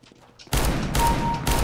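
Heavy gunshots from the R8 Revolver in Counter-Strike: Global Offensive fire in quick succession, loud and close, after a quiet moment with faint background noise.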